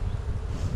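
Honey bees on a beehive frame give off a low, continuous, close buzz, steady and fairly loud in a brief burst.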